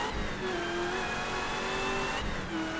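A race car engine in a racing video game running near the Nürburgring, a steady high droning rev sustained throughout with a slight pitch shift late on, loud and continuous.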